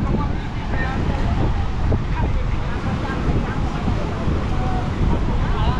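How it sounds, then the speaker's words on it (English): Wind blows outdoors in Legian as a storm comes in, roaring steadily as loud microphone buffeting with low rumble throughout, masking any other sounds nearby. "Because the wind is coming now and everyone going home before they get wet."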